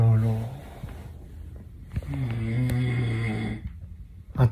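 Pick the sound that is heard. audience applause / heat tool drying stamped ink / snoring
snoring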